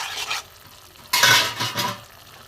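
Ash gourd shukto with fried bitter gourd being stirred in a pan, giving a scraping stir with a soft sizzle underneath; a short burst early on, then a louder, longer stretch of stirring, close and alone.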